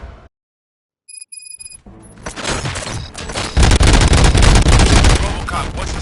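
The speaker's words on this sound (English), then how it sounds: "Gunshots? What's going on?" Gunfire in the video game RoboCop Rogue City: after a brief quiet beep and tone, dense bursts of shots build into loud, sustained rapid fire with booming impacts.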